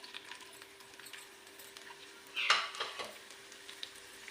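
Sliced onion dropped into hot ghee in a pan while dhaba-style masoor dal is cooked, giving a short burst of sizzling about midway, then fading frying.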